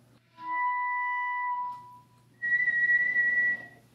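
A person whistles a high written C sharp, first one steady sustained tone, then a short pause and a second, slightly wavering high note held for about a second, clear and alone in a quiet room.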